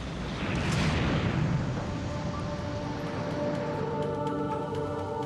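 A loud, rumbling blast from a series of explosions destroying an airliner swells early and rolls on as a sustained roar, with crackling bursts and a low drone continuing afterward.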